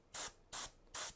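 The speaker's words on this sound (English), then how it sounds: "So I'll just spray it." Three short hissing bursts of spray paint misted onto a miniature figure, each about a tenth of a second, evenly spaced and close, with near silence between them.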